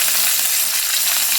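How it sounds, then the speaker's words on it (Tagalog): Chopped onion hits a hot pot of pork being cooked for Korean suyuk in cola and soy sauce, giving a steady, close, loud sizzle of frying with no voices. "Ngayon, ilalagay naman natin yung ating onion."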